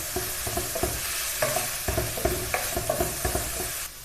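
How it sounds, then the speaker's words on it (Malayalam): Shallots and curry leaves sauté in a pan, a steady close sizzle broken by repeated clinks and scrapes of a spoon stirring against the metal. "ഉള്ളി ചേർത്ത് നന്നായിട്ടൊന്ന് വഴറ്റിയെടുക്കാം"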